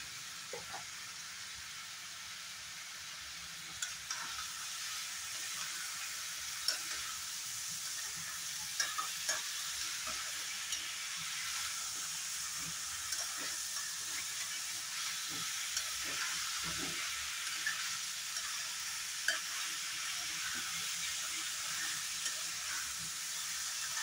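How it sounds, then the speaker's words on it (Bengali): Raw banana curry fries with spices in a pan, giving a steady soft sizzle throughout. A spoon stirs and scrapes now and then, producing light clinks, all close and quiet without talk. "মশলার সাথে ভালো করে ফ্রাই করে নিলাম"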